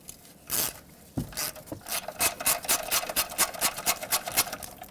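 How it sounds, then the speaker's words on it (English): Ratcheting 10mm socket on an extension loosening a brake hose bracket bolt on a 2004-2008 Ford F-150, a sharp crack as the bolt breaks free followed by a rapid run of close, rhythmic ratchet clicks. "So grab a 10mm socket and let's break this free."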